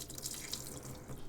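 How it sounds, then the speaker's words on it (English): Water from a reverse osmosis filter faucet under a sink runs in a soft, steady hiss, fairly quiet and close, with no voices. "So we got real good pressure for our fresh water. I let it run for a little while"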